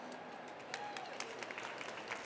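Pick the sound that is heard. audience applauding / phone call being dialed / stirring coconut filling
audience applauding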